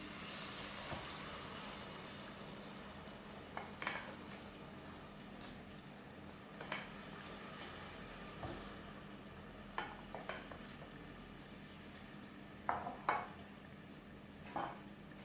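Chickpeas stirred into a ghee and spice tempering in a pot for a Ramadan channa dish, giving a low steady sizzle with scattered scrapes and clinks of a spoon against the pot, no talking.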